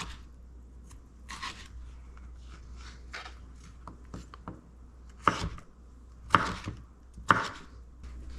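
A kitchen knife cuts the watery insides out of a vegetable on a cutting board, giving scattered soft taps and several sharper, louder chops toward the end over a low background hum.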